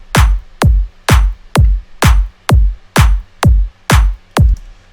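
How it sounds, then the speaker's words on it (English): A drum loop pairs a punchy kick sample with a layered clap sample, striking ten tight, evenly spaced hits about half a second apart, loud and dry with nothing else underneath. "We are going to start with this kick and clap loop."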